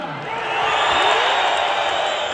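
A crowd at a 57 kg wrestling final swells into a loud, sustained roar and cheering for Akhmed Idrisov, building up within the first half second and holding steady, dense and close.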